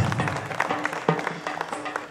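An audience claps together at a Telugu talk, with dense, steady applause filling the space and a few louder individual claps standing out. It sounds fairly close, with no speech over it.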